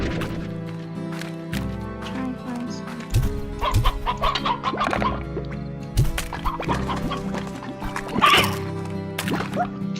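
Hens cluck repeatedly in the video game Slime Rancher, short bursts over a steady musical background, fairly close and moderately loud.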